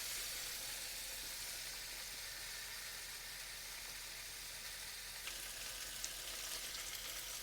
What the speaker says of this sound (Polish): Chcemy, żeby się po prostu podsmażyło.